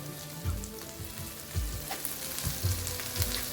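Chorizo sizzles and crackles steadily in a hot pan, a dense frying hiss with occasional louder pops and stirring knocks, heard up close without any talk.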